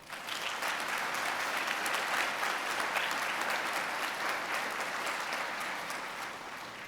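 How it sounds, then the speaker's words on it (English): Sustained applause from a large commencement ceremony audience honoring faculty and staff, a dense even wash of many hands clapping at steady loudness for about seven seconds, easing slightly at the end, no talk. "Let's show our faculty and staff our deepest appreciation with a big round of applause."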